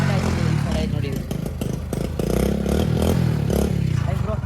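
A motorcycle engine revs loudly and close, its throttle blips rising and falling in a choppy pattern with rattling clatter, while someone talks over it.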